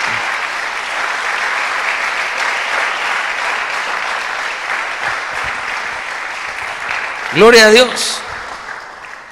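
A church congregation applauds steadily, a dense, loud wash of clapping filling the space, and near the end a voice calls out briefly over the applause.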